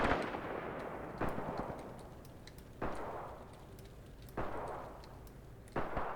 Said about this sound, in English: One of the machine guns is opening fire on the top of the hill where my own units are